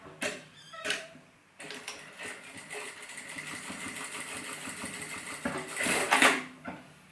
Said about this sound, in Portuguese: E vou costurar pelo mesmo lado, porque eu já tenho a marquinha feita